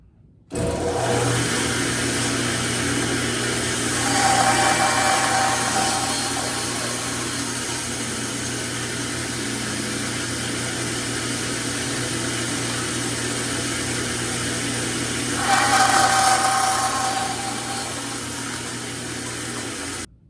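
A power saw, a bandsaw or tablesaw, hums steadily while cutting a wooden tenon, rising into two louder cutting passes near the start and near the end of the run.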